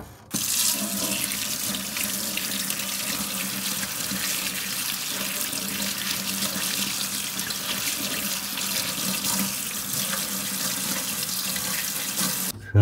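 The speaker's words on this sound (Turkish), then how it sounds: "Filtremiz var burada. Pislik tutucu. Onu yıkayacağız." Water runs steadily from a tap over a heating system's dirt-trap filter as it is washed, a continuous, loud rushing splash that holds unbroken from start to finish.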